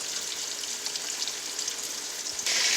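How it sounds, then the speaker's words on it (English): Battered, flour-coated chicken frying in hot oil, a steady close crackle and sizzle that brightens and grows louder near the end, with no talking. "And then I'm frying my chicken."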